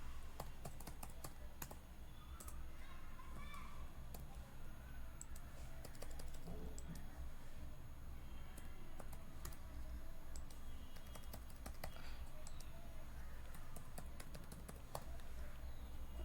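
Values are typed on a computer keyboard into a web form in a PHP project, producing a long run of quick, irregular key clicks, close and fairly quiet, with brief pauses between bursts.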